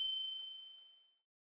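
A single bright notification bell ding rings out cleanly on its own with no talk, then slowly decays and fades to silence within about a second.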